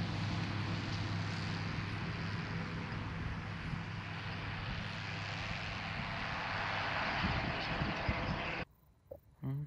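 A small flying-wing RC plane drones steadily overhead, a continuous buzzing electric motor note that cuts off abruptly near the end, leaving quiet rustling.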